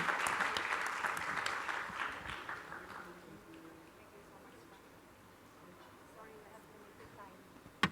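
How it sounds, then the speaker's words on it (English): Audience applause in a hall at a closing session of an international ASEAN conference, broad clapping for the speakers and participants that fades out after about three seconds, leaving quiet room tone. "let's give a big applause to all the speakers and all the participants"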